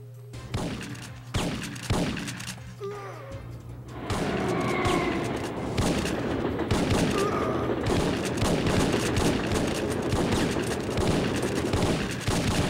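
Gunfire in the PS1 game Syphon Filter: a few separate shots give way to a dense, sustained burst of rapid fire, loud and continuous.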